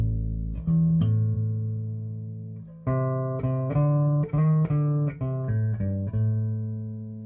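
A clean, round electric bass through an EWS Tri Logic II preamp pedal, gain fully down and volume fully up, plays a slow line of sustained single notes, each ringing out and decaying before the next.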